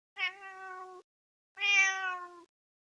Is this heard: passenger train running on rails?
no